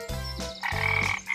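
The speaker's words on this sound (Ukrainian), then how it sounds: "Жаба." A frog croaking twice in quick succession, loud and close, each croak a rich buzzing call with no other sound around it.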